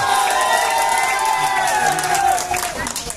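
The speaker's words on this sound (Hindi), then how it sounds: "एक बार जोरदार तालियां आवाज के साथ में" At a Congress party office inauguration ceremony in Bhiwandi, a loud crowd claps and cheers, with shouting voices mixed into a dense, continuous roar that thins slightly near the end.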